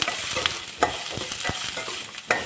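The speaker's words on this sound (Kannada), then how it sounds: "ಈರುಳ್ಳಿನ ಸ್ವಲ್ಪ ಫ್ರೈ ಮಾಡ್ಕೋಬೇಕು" Finely chopped onion sizzling in a pan while being stirred, a continuous close fry with several distinct scraping knocks of a spoon against the pan.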